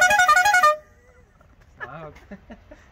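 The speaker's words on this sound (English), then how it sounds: "You gotta love when your air horns echo." A loud, brassy air horn mounted on a lawnmower blasts for under a second, then echoes away, followed by a short burst of talking.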